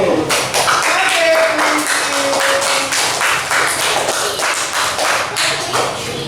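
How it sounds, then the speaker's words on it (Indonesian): Students applauding in a primary school classroom, a dense steady patter of many hands clapping at close range, with children's voices mixed in. "tepuk tangan untuk Tiko."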